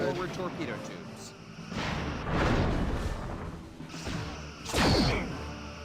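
Torpedoes launching at a target in the Star Trek Bridge Commander space combat game: three swelling whooshing blasts spaced a second or two apart, layered over game sound and speech.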